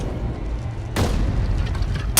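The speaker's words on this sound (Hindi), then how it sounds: "वो पेट्रोल बम फेंक रहे हैं।" A petrol bomb bursts in an action film scene, a sudden loud whooshing blast partway through that rumbles on, followed by another sharp hit right at the end.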